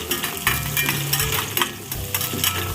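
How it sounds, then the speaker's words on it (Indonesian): A garang asem spice paste is sautéed in a pan, with continuous close sizzling and frequent metallic clinks and scrapes of a utensil against the pan. "Nah begini, tumis sampai harum."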